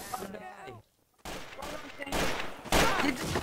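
Gunfire in the shooter game Trouble in Terrorist Town, with rapid shots rattling over a couple of seconds, loud and close, while a player talks at the start.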